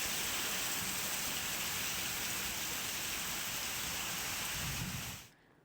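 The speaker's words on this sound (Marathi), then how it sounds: "माथेरानमध्ये वादळी वाऱ्यासह जोरदार पाऊस झालाय" Heavy rain pours down steadily in a dense, loud roar with gusting wind in Matheran, then cuts off abruptly near the end.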